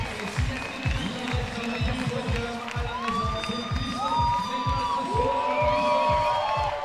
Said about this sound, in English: giving him the round of applause